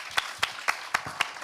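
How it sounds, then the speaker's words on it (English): Sparse, distinct hand claps sound at a steady pace, about six in quick succession, fairly close and with no voices over them. "that definitely deserves a round of applause"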